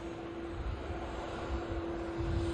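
An EasyJet airliner taxis at Manchester Airport, its engines giving a steady distant whine and low rumble with a constant tone, fairly faint and unbroken, no talking.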